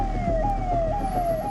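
Ambulance siren wailing in a traffic jam on the DND flyover between Noida and Delhi, a loud repeating rising-and-falling tone close by over a steady rumble of engines.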